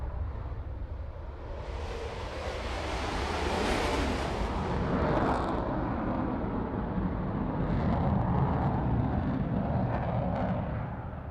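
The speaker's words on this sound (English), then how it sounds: "EJ200 turbofans, getting him airborne with the afterburners." A combat jet takes off at an airshow on EJ200 turbofans with afterburners, a loud broadband roar that swells and sustains across the whole stretch, distant and wind-buffeted.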